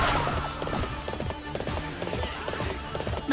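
Galloping horse in the video game Warriors Orochi 3, with a clear rhythmic clip-clop of hooves repeating steadily across the stretch, close and prominent over a busy game soundscape, no voices.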